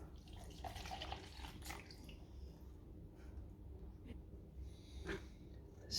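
White wine is poured into a homemade Asian hornet trap, a quiet, trickling splash with small gurgles and drips that come in short bursts.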